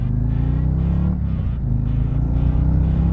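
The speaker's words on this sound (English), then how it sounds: "this bike does like to run up in the higher RPMs with this cam" 2022 Harley-Davidson Road Glide ST motorcycle with an aftermarket cam, running at higher RPM while ridden: a steady, loud, deep engine drone with a slight dip in the middle, no voices.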